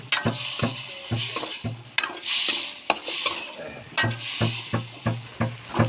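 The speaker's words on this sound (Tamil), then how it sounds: "அதையும் எண்ணெயில் விட்டு வதக்கிக்கோங்க" Chopped tomatoes sautéing in oil for a village-style peanut curry, with a soft sizzle under repeated metal spoon scrapes and clanks against the pan in an uneven rhythm, close by.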